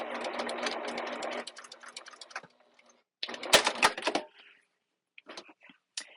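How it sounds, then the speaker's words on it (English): A sewing machine stitches a raw edge of elastic to a raw edge of fabric in a quick holding stitch, running in a dense, fast whirring burst, pausing, then giving a few short stop-start runs, close and alone. "we're sewing the raw edge of the elastic to the raw edge of the fabric"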